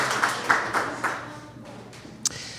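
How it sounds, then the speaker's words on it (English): Audience applause at a live whisky podcast recording in Chicago: a burst of clapping with a few strong individual claps early on that quickly dies down, with one sharp clap or knock near the end. "Loud applause."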